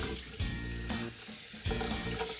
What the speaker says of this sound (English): you want to wash your sirloin steak really well